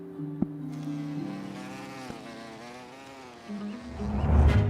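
A bee feeding on nectar at a flower hums with a steady buzz that wavers and shifts in pitch, swelling louder toward the end, with no voices.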